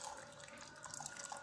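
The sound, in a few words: hot water being poured for making milk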